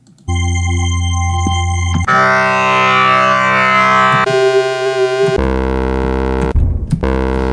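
Dungeon synth samples from a free sample pack play as a run of loud, sustained droning synthesizer tones, each a few seconds long and abruptly switching to another timbre, with buzzy harmonic textures and no voices.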